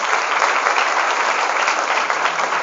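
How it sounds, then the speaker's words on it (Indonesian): Steady, dense audience applause fills a hall at an Islamic boarding school event for hundreds of santri, near and loud, holding an even level throughout with no voices on top. "Sekali lagi tepuk tangan untuk Al-Ma'arif hari ini"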